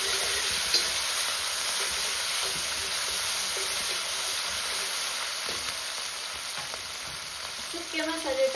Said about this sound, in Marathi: वाटण आपल्याला छान तळून घ्यायचे सोनेरी कलर येईपर्यंत